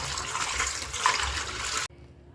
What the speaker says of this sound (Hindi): दाल को मैंने 3 से 4 बार अच्छे से पानी से धो लिया